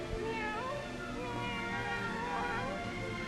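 A person imitates a cat, meowing with a drawn-out, wavering voice over a steady background hum.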